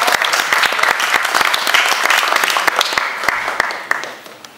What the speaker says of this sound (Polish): Ja poproszę o duże brawa dla kolegów,